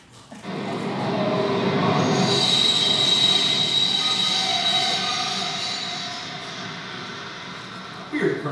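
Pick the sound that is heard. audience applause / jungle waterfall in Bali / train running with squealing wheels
train running with squealing wheels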